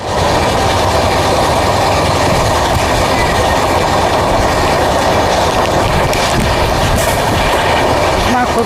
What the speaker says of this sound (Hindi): टुंडला जंक्शन से हमारी ट्रेन डिपार्ट कर रही है अभी